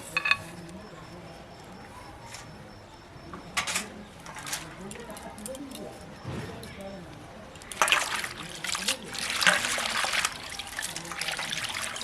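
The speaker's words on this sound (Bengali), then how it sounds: "এরপর জল দিয়ে ভালোভাবে ধুয়ে নেব" Spinach leaves are rinsed under running water in a home kitchen, with faint trickling building to a louder, splashing flow in the second half, while a person speaks intermittently.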